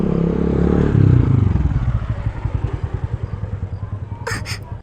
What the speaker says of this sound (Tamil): அண்ணன் பைக் சத்தம்